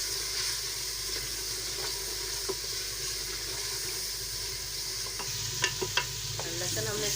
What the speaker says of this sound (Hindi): गोश्त हमारा भुन रहा है।